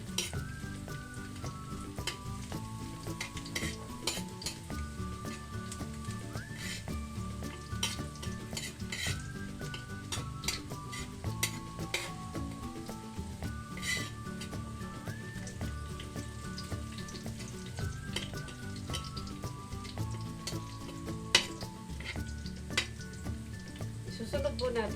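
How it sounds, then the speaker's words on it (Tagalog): Garlic sizzling in oil in a pan for shrimp curry, a steady crackling fry with frequent clinks and scrapes of a utensil stirring against the pan, close and continuous, while a voice speaks intermittently over it. "Ilalagay natin sa kawali. Hayaan po natin siyang maging golden brown."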